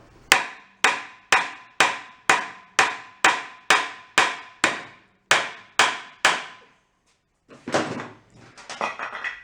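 A hammer strikes a pry bar wedged in a junked marine diesel generator set, about a dozen sharp metallic blows in a steady rhythm, close and loud, followed by a pause and some rougher scraping clatter.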